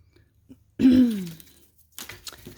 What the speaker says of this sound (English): I just can't stop clearing my throat